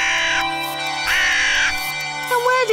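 Cartoon crows caw in animated children's television, with several loud, harsh calls in short bursts over a steady droning background, and a brief voice near the end.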